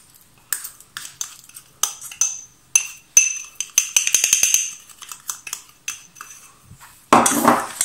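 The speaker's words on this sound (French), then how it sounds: "Et avec une fourchette, je mélange bien l'ensemble" A fork scraping and clinking against a bowl while praline is mixed into crushed speculoos for a crunchy cake base, with a series of quick irregular taps and scrapes and a louder, brighter rustling burst at the end.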